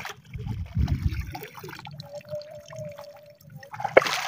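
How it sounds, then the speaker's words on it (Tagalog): Water poured out during a crab, squid and fish food trip, a broken splashing trickle with a few drips, fairly close, with some low rumbling handling noise and a brief sharp knock near the end. "Ibuhos mo na ang tubig na eh"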